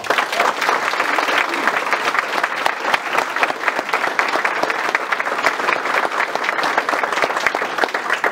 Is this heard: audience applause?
yes